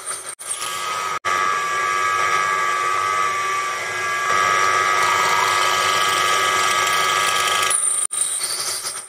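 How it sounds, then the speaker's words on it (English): A twist drill bores into metal on a Proxxon PD 250/e lathe, a steady whining machine drone with a strong tonal hum that shifts slightly in pitch midway, briefly cutting out near the start and end. "There's a distinct change to the sound a twist drill makes when it starts to get loaded up with chips or is starting to warm up."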